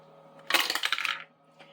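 Two dice tumble and clatter across a hard surface in one short, quiet burst of rattling clicks, followed by a faint tap and then silence.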